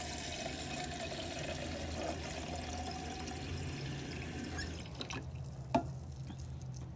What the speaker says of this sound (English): Step 6 is to add water until it completely covers the noodles, but they're not floating.